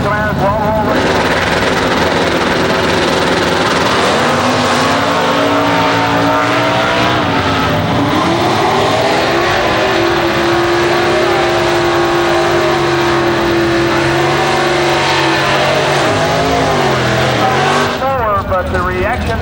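Drag race cars at an early-2000s IHRA Pro Mod race in Farmington roar loudly, engine pitch rising and falling as they run. An announcer talks over the noise.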